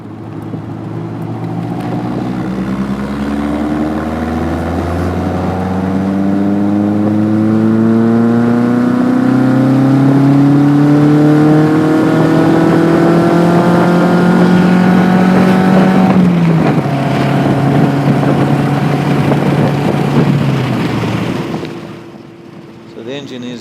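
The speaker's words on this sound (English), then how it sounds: "Just listen to this engine." A Caterham-style Lotus 7 sports car engine revs loudly and steadily while driving, its pitch climbing through the gears with wind noise, then easing off near the end.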